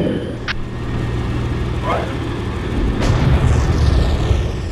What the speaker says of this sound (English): I heard a huge explosion.